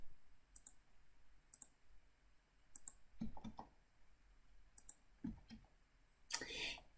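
Computer mouse clicking on a desk, a handful of sharp, close clicks spaced irregularly, some in quick pairs like double clicks, with faint softer knocks between them and no talking.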